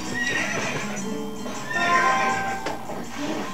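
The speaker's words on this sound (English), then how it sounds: "So she'll do the little neighing" Epona, the horse in The Legend of Zelda: Twilight Princess, neighs loudly in a drawn-out whinny with hoof clip-clops beneath, clear and close with no talk.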